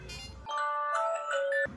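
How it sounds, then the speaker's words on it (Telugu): A phone ringtone, triggered from a Samsung Galaxy SmartTag, plays a bright electronic melody of sustained tones for about a second, then stops. "సో రింగ్ వినిపిస్తుంది నాకు"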